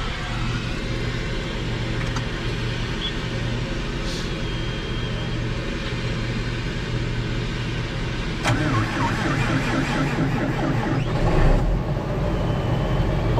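A farm tractor engine cranks and fires up on a cold morning before disking, a steady diesel rumble that grows louder and rougher partway through as it catches and idles, close and alone.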